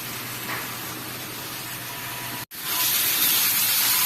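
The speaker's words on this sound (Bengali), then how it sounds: "তেল লাগছে ছিটকে" Hot oil spits and hisses in a pan as ginger-garlic paste goes in while a bacha fish curry is cooked, a steady loud close spray of sizzle with a brief cut near the middle, then louder crackling.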